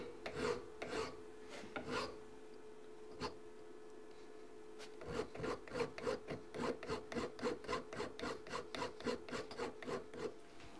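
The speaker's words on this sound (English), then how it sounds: "now all I have to do is file to that line" A file works a rough-cut, bandsaw-cut part down to a scribed line: a few scattered strokes at first, then a fast, steady run of rasping back-and-forth strokes, close and fairly quiet.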